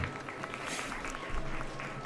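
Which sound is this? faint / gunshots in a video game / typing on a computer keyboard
faint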